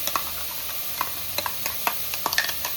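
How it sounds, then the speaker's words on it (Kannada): Ground masala fries in a pan for a village-style goat leg soup, a low sizzle punctuated by scattered sharp ticks of a spoon against the pan. "ರುಬ್ಬಿರುವಂಥ ಮಸಾಲೆನ ಹಾಕ್ಕೊಂಡು ಫ್ರೈ ಮಾಡ್ತೀನಿ"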